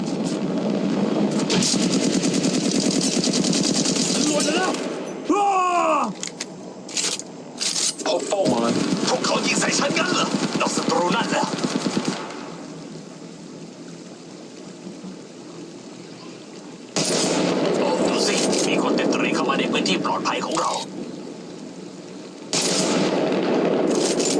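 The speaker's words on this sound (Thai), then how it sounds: "กำลังโดนยิง" Automatic gunfire in the mobile shooter Apex Legends Mobile: long sustained bursts of rapid shots, loud and close, breaking off briefly before resuming in several stretches.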